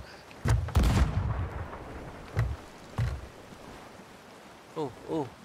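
Ship cannons booming in a Sea of Thieves naval fight, a few heavy blasts spaced several seconds apart, each with a rumbling tail, close and loud over sea ambience, with a voice briefly audible near the end.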